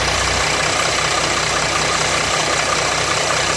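A 2007 Jeep Grand Cherokee 3.0 CRD diesel idles close by with a rattle, giving a loud, continuous clattering engine drone with no talk.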